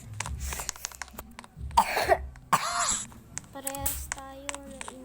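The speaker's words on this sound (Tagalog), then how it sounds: "Parehas tayo na inuubo." Several harsh coughs and throat clearing from a person, close and loud, mixed with brief speech and breathy sounds.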